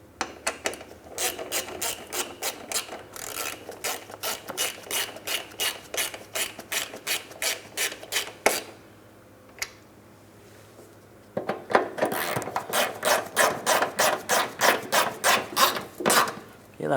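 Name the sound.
tightening splash shield hardware with a ratchet, Mitsubishi Outlander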